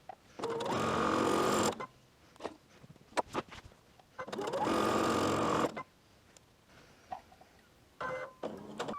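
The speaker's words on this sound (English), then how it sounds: "So we're just going to take and chain stitch these." A sewing machine chain stitches quilt units with quarter-inch seams, running in two steady buzzing bursts of about a second and a half each, separated by brief clicks and handling noises, close and clear with no talking.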